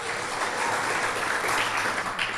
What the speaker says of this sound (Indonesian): Mohon aplaus untuk beliau.